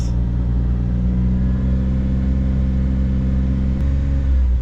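A car engine is held at a steady raised rev around 2,500 RPM, giving a loud, constant rumble close by with no talking over it.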